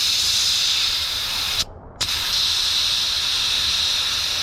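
A strong, steady hiss of pressurized air escapes close by from a bug spray sprayer tank, cuts out briefly for a moment, then resumes just as loud.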